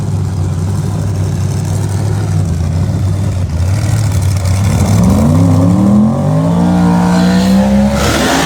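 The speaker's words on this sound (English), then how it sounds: "This is so exciting drag racing" Pro Mod drag race car at a Bradenton World Series event, its engine rumbling steadily then revving up in rising, loud harmonic sweeps near the end, with heavy low-end roar throughout.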